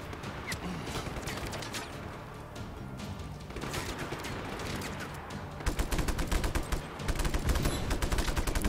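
A heavy machine-gun turret fires in a shooting video game, sending rapid bursts of loud, closely packed shots. The rattle pauses briefly near the middle, then comes back harder and denser toward the end.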